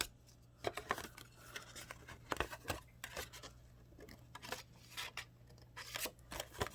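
Scissors snip off a leftover score mark on a paper craft piece for a hostess club project, a run of quiet, close cuts and paper rustles in an irregular rhythm with no speech.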